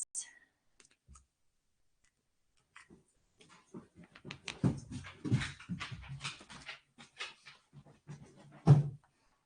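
A dog gives soft whines and whimpers, interspersed with clicking and shuffling sounds nearby, fairly quiet and close, ending in a slightly louder whimper.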